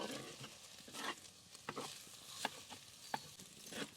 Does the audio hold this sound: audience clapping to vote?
no